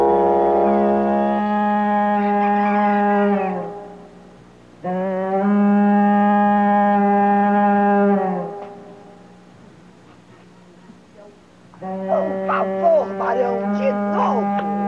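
A loud, sustained tone from a corneta, a horn, blares in long blasts, pausing between them, with a wavering, bleating final blast.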